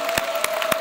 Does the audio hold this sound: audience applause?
yes